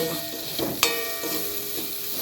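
Amla fries with ground spices in a pan, giving a soft sizzle with light stirring scrapes and a sharp clink partway through, fairly quiet with no talking.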